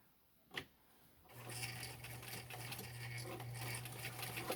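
Sewing machine stitching elastic onto a fabric mask, a steady close whirring hum after a single tap, running continuously at moderate volume.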